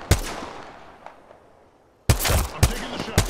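Gunshots in a shooter video game: a single sharp shot with a long decaying tail, a quiet gap, then a cluster of three loud, close, echoing shots in quick succession.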